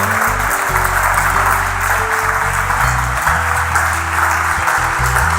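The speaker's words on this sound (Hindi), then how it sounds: "यीशु के लिए जोर तालियां" A church congregation claps loudly in praise of Jesus, the thick, sustained applause layered over a steady low musical drone with shifting bass notes.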